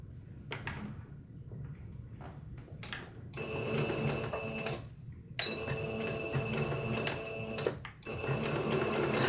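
A domestic sewing machine chain piecing fabric runs in repeated short bursts of fast mechanical stitching, separated by brief pauses, close and fairly loud with no talk.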